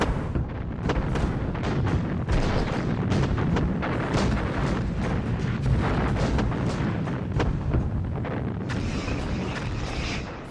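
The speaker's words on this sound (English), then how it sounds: "The Soviets begin the largest artillery assault ever seen." A massive Soviet artillery barrage roars on continuously, dense overlapping booms and rumbling blasts merging into a loud, relentless wall of fire with no pauses.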